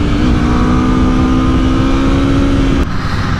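A 2021 Aprilia RSV4 Factory superbike engine drones steadily at high revs out on the road, a sustained loud mechanical tone that holds, then drops away sharply near the end amid wind rush.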